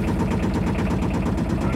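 The engine of an Aixam Mega Multitruck van idles with a steady, even rumble and a fast regular pulse throughout. No one speaks.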